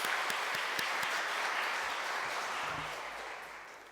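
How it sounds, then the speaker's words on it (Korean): Church congregation applauds the choir and worship team, a steady crowd clapping with a few sharper claps early on, gradually fading toward the end. "우리 박수로 한번 격려합시다"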